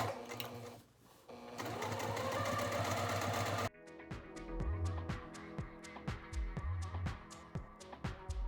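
A sewing machine back stitching a seam on a fabric gift bag: a steady whirring run, then a pause and a slower, rhythmic series of distinct stitch clicks, close and clear.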